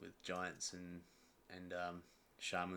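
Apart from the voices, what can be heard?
No everyday noises stand out.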